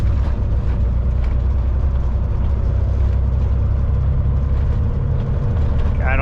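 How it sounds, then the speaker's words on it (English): A Euro-style truck engine drones loud and low from inside the cab, a steady heavy rumble that holds nearly constant as it brakes between gear shifts, with a brief sharper rise near the end. "I think it's actually like it's engine braking in between gear shifts."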